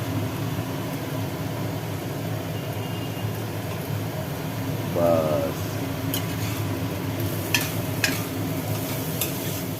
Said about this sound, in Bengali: থোর ভাজা কমপ্লিট হলো থোর ভাজা নামিয়ে নেওয়া হচ্ছে